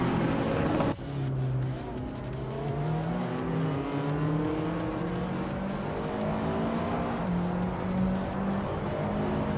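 Racing car engines, among them a 1985 BMW M5 E28, droning and revving on track, shifting pitch through gear changes with a brief dip near the start, loud and continuous; no talking.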